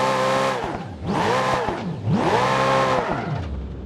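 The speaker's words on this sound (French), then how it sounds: "On va prendre une petite voiture qui va vite." A small fast car in a video game accelerates repeatedly, its engine pitch rising and falling in three sweeping revs as it shifts gears, loud and close, with a whirring synthetic tone and no talk.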